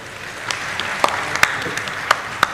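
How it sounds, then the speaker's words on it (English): An audience at a maritime summit breaks into applause, a short burst of scattered claps with a few sharp louder hits standing out over a soft murmur. "Please, a resounding applause."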